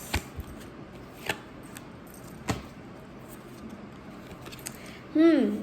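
Tarot cards shuffled and riffled in a few separate bursts spread across a quiet room, ending with a brief louder rustle.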